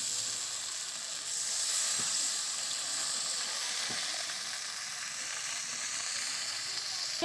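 Fried potato pieces sauté in spice masala in a pan, giving a continuous close sizzle with occasional faint stirring taps, steady and even throughout with no talking.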